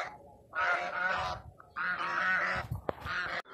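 Several ducks call in loud, nasal honking bursts, three long squawking runs separated by short pauses, close and clear with no talking.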